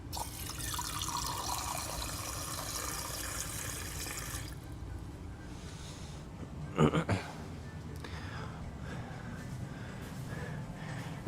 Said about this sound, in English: At the very least, we'll keep the water flowing.